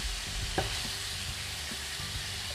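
Adobong puti fries in its own oil, giving a steady close sizzle with faint stirring clicks and no voices.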